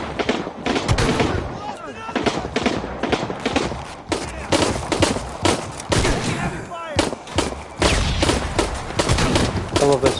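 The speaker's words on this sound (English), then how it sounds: "I love this shotgun." Rapid, loud bursts of gunfire fill a combat scene in the video game Shadow of the Tomb Raider, with shotgun blasts mixed among dense repeated shots and voices calling out over the din.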